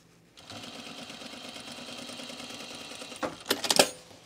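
A sewing machine topstitches a pair of Peaks and Valley pants in one steady run of stitching, ending with a few sharper mechanical clacks.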